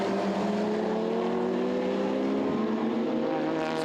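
Lamborghini touring race car running on track at the Hungaroring during an endurance race, with a loud steady engine drone that holds high revs, slightly dips, and stays close throughout with no talking.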